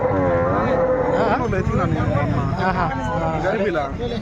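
Cows, including HF cross and Jersey, moo repeatedly, close by and loud, at a weekly cattle market in Palamaner, amid a busy crowd of overlapping voices and chatter throughout.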